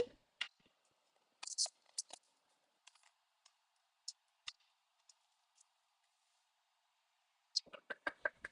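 Scissors snip through card stock during card-making, a series of short sharp clicks and cuts in scattered bursts, with a quick cluster near the end, close and fairly quiet in an otherwise still room.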